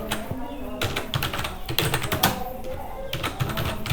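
Fast, steady typing on a computer keyboard as a name is entered into a JavaScript form, dense clicky keystrokes throughout at close range, with a faint voice in the background.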